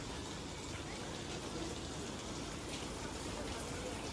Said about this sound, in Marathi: पाऊस खूप येतो आता सध्या